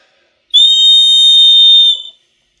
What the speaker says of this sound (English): So that's a really nice little portable whistle that's really loud.